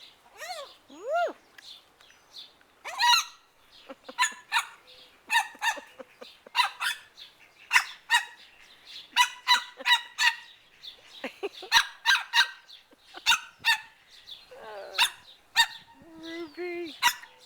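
A bird gives a rapid series of sharp, squawking calls and chirps, loud and close, with brief pauses between bursts.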